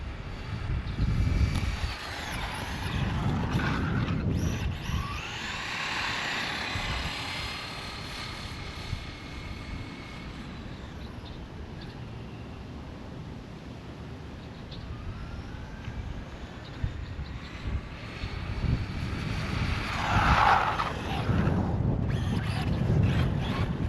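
Traxxas Slash 2WD RC short course truck on a 2S battery, its high-pitched electric motor whine rising and falling as it speeds away and passes back, loud near the start and end and fainter in between.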